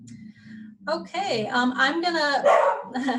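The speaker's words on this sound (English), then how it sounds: "that's my dog, say hi." A pet dog gives a few short barks and yips close to the microphone, overlapping a person talking during an online meeting.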